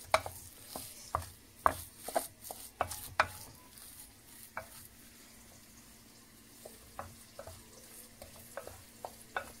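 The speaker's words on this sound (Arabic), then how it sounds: "كنحركوا هاد الخيار وهاد المعدنوس ندخلوه مع بعضياتهم" Cucumber and parsley stirred together in a pan, a quiet background sizzle broken by sharp, irregular taps and scrapes of a utensil against the metal, clustered early and sparser later, close but faint.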